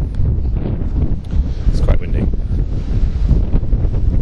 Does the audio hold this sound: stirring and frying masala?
no